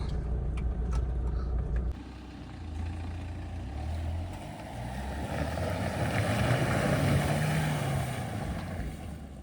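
A car engine rumbles low and steady as it creeps slowly along a grassy track, tires slipping on the grass, with rough rustling and wind buffeting the microphone throughout.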